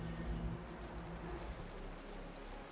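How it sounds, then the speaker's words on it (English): Heavy rain in the Wuthering Waves game falls as a steady, dense hiss with low rumbling underneath, continuous throughout and with no voices. "The rain's getting heavier."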